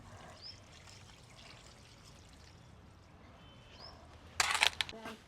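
Rinse water drains off washed rice in a short, bright splashing pour near the end, following several seconds of near silence.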